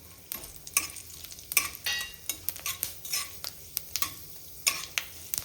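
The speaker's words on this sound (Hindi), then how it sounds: "अब इसी तेल में मैं ये सौंफ, मेथी और सूखी लाल मिर्च डाल दूँगी" Fennel seeds, fenugreek and dried red chillies crackle in hot oil left from frying peanuts, for a samosa filling; close, busy sizzling with frequent sharp spoon taps and scrapes against the pan, no voices.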